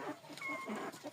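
A young Jersey Giant hen clucks softly in short bursts, with a faint high whistle-like tone and other low farmyard noise around it.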